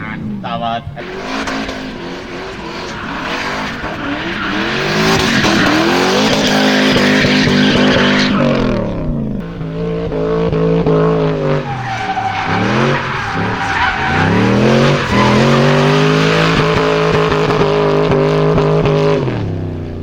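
Drift cars at an Icelandic car festival drift practice and qualifying, engines revving hard with long sustained tire squeal and skidding, loud and close, over continuous crowd and engine noise throughout.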